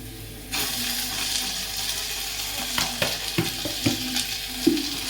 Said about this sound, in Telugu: ఇప్పుడు అల్లం వెల్లుల్లి పేస్ట్ పచ్చివాసన పోయేంత వరకు ఫ్రై చేసుకోవాలండి